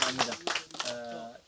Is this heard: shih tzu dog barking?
no